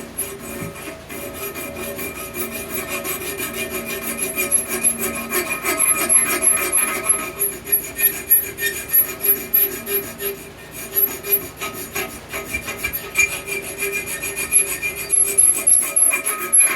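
Hand file rasping back and forth in a narrow gap of a spring steel hidden-tang knife handle, steady rhythmic scraping strokes running continuously and close up, growing more pronounced toward the middle.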